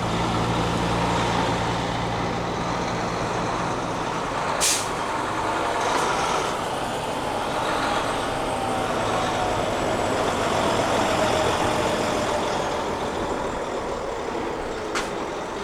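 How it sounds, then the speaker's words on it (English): Trucks pull in at a ferry terminal, with a steady rumble of diesel engines and traffic throughout, a couple of sharp air-brake hisses, and a broad, loud noise wash with no voices. "the moment I say that, 3 trucks pull in"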